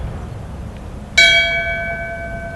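A memorial bell is struck once in tribute at a township ceremony, giving a clear metallic clang that rings on and slowly fades against a quiet room.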